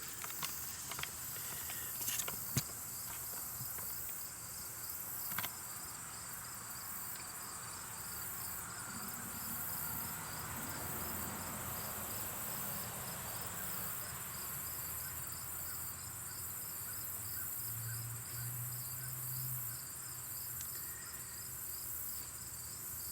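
Steady insect chirping fills an outdoor scene, a continuous high trill with a few soft rustles and taps early on.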